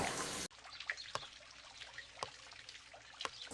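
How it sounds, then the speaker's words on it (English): Water pours in a short trickling stream into a soup pan while making lasagna soup, close by, with a few faint clinks against the pan and no talking. "you're going to fill this up with water 3 times, add it to the pan"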